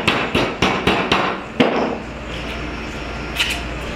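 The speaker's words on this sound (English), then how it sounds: "basically bending this little rod just real quick" A small metal rod being worked in a bench vise during a rolling ball sculpture build gives a run of sharp, close metallic knocks, about five in quick succession, then one more strike and a fainter tap later, with no talk.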